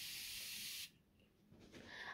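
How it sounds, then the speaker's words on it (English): A spray can releases a steady loud hiss onto an arm before changing a Dexcom G6 and insulin pump set. The spray cuts off sharply, and then a fainter hiss follows. "Step one, I'll get my spray and go into my arm and just."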